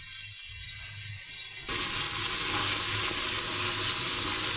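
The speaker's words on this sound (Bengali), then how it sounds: "এই যে হলুদের গুঁড়া মরিচের গুঁড়া লবণ এগুলো দিয়ে দিচ্ছি এখন ভালো করে কষিয়ে নেবো আলুটা" Potatoes frying in a pan with turmeric, chili powder and salt. A quiet stretch gives way to a loud, steady sizzle that fills the rest of the clip, with no talk.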